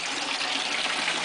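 Water from a pump-fed recirculating sluice box rushes in a steady, close hiss of flowing liquid, continuous and even over a brief moment.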